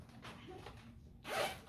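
A red zipper on a handmade bag sewn from a rice sack is pulled in short quiet tugs, then one louder, quicker zip near the end, close and alone.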